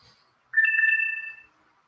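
Phone low battery alert, a single short electronic tone, clear and close, sounding about a second and fading out in otherwise near silence.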